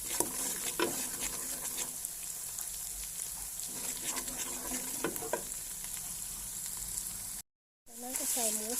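Minced pork for Thai basil pork is stir-fried in a pan, giving a steady hiss and sizzle with scraping spatula strokes and scattered clicks, close and continuous. A short silent gap falls near the end before someone briefly speaks.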